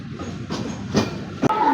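A train pulls into Ernakulam Town railway station in Kerala, with a low rolling rumble broken by a few sharp clacks and a short bright squeal near the end.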